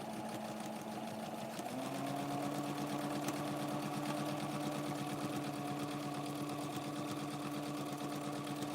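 A sewing machine stitching with a very small stitch size, used while making doll clothing, gives a fast, steady mechanical whir and rapid needle hum that rises in pitch after a second and then holds evenly throughout.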